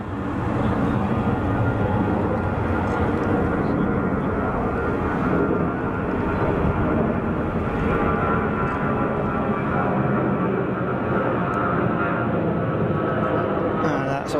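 An airliner powered by CFM56-5C engines takes off at Zurich Kloten Airport, giving a loud, continuous roar that holds steady throughout, with faint crackle near the end.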